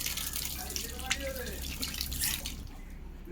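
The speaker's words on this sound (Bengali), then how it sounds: "তো এবার চলো মাংসটাও এবার চটপট করে ধুয়ে নিই" Meat being washed under a running kitchen tap, a continuous splashing water stream with handling noises, with a voice speaking briefly over it.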